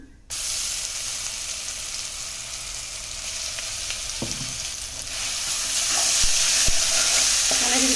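Ginger garlic paste frying in hot oil with cinnamon, cloves and garam masala spices for a chicken curry, a steady loud sizzle throughout that swells further near the end, with a few faint utensil clinks and no talk.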